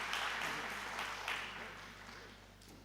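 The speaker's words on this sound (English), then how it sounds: "So give him a round of applause," Audience applause at a graduation ceremony, a dense wash of clapping that swells briefly and then slowly fades, heard from a moderate distance with no voices over it.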